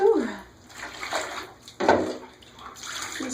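Shallow bath water about an inch deep sloshes and splashes in uneven bursts as a pet gets washed, close and fairly loud, with soft talk mixed in.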